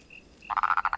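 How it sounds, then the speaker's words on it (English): A rapid series of about seven short, nasal croaks from a waxy monkey frog, close and clear, preceded by a faint high whistle. "This is the waxy monkey frog."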